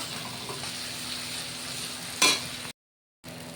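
Spices sizzling as they are sautéed in a pan for a jackfruit and minced mutton curry, a steady frying hiss with a brief louder burst of sizzle and stirring near the end, then a short silent gap.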